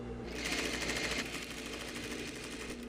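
Sewing machine stitching a trouser seam at the zipper, a close, steady rapid mechanical whir with fast regular needle ticks running throughout.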